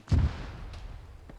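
Mortar explosion in a military game: a single loud, deep boom at the start that fades into a low rumble, followed by faint distant thumps.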